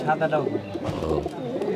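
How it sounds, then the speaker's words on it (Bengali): Australian doves at a weekly village market in Ullapara give soft coos close by, under steady talk and market chatter. "এটা কি ঘুঘু এটা অস্ট্রেলিয়ান ঘুঘু"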